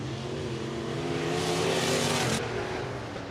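Race cars roar around a dirt speedway at Boone Speedway in Iowa during a heat race, a loud steady engine drone with layered revving that swells mid-way, then eases slightly.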